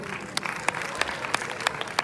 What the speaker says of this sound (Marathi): जोरदार टाळ्या म्हणते